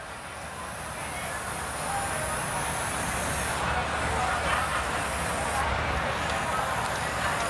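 An airbrush sprays edible colour onto a cake as a continuous close hiss that swells slightly and holds steady throughout.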